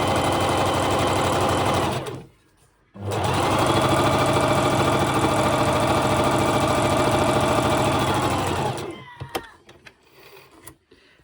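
A sewing machine runs a seam on a washable face mask in two loud, close bursts of steady motor whir, separated by a short pause, then falls quiet with a few small clicks.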